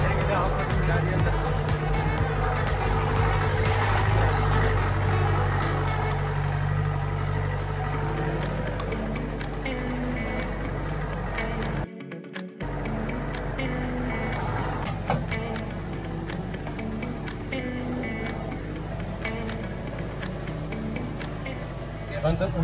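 A jeep drives along an off-road track through a coffee plantation during the monsoon, its engine a continuous low rumble under frequent talk, with clatters and bumps and one brief dropout midway.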